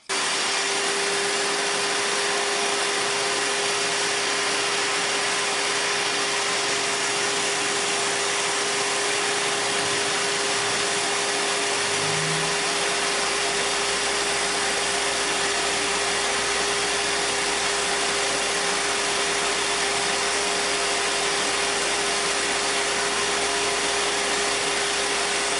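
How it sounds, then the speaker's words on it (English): A grinder and a shop vacuum cleaner run together while a one-handed shop broom is being made, a steady loud whining drone with a fixed hum that holds for the whole stretch, with a low shift partway through. "So we're going to crank everything up, the grinder and the vacuum cleaner to catch the dust"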